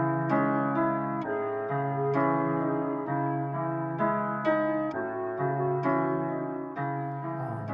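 Looping flute and piano beat melody, pitched up seven semitones, sounds brighter and higher, with sustained tones and regular note changes cycling in a repeating phrase, clean and alone without talk.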